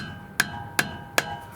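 A hammer striking a screwdriver to drive back the front brake caliper piston on a 2016 Vauxhall Insignia: three sharp metallic hits, evenly spaced about 0.4 seconds apart, close and clear with faint ringing after each.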